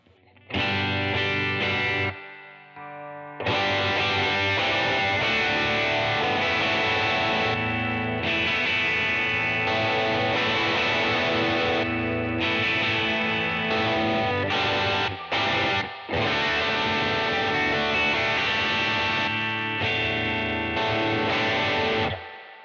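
Heavily overdriven electric guitar through a JHS Morning Glory into an Archer overdrive pedal, playing sustained chords and riffs, loud and continuous with a couple of brief pauses, no voices.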